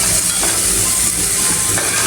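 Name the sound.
spice tempering sizzling in hot oil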